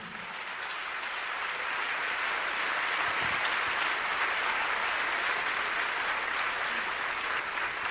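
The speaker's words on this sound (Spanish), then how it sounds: "denle ese aplauso a Jesús" A church congregation applauds during a sermon, a steady wash of clapping from many hands that swells slightly and holds at moderate loudness.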